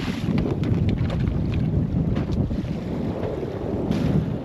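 Strong wind buffeting a small plastic fishing boat on rough seas off the Florida Keys, a steady roaring rush of gusts and wave noise close to the microphone.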